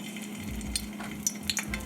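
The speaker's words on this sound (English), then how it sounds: "That's what you want to hear, that sizzle." A small piece of salmon fries in hot oil, giving a steady close sizzle broken by a few sharp pops and crackles.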